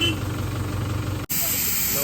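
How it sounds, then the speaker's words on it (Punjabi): A loud, steady hiss of gas escaping from a tempo vehicle after a road accident runs continuously, briefly cut off before resuming at full strength. "ਇਹਦੀ ਵੀ ਗੈਸ ਲੀਕ ਹੋ ਗਈ ਟੈਂਪੂ ਦੀ"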